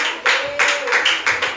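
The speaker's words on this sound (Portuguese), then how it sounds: "Aplauda o Senhor nessa noite." A church congregation claps together in a brief burst of rhythmic applause, several loud surges of many hands during an evening service, with a faint sustained tone underneath.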